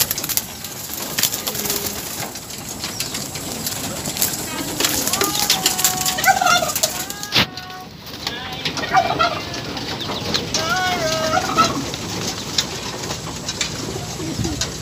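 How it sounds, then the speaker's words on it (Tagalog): Young pigeons coo repeatedly in low, warbling bursts, fairly close, over steady background noise with some faint clucking fowl and a bit of talk. "Ito yung mga young bird namin."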